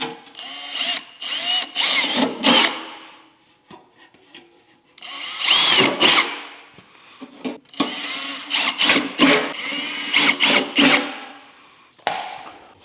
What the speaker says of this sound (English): Heat shield is drilled.